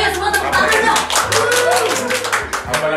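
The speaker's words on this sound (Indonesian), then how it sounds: "butuh apresiasi langsung dari Bapak Ismoyo, semua tepuk tangan dong." A group claps steadily and close by, a dense patter of many hands with a low sustained tone and some voices underneath.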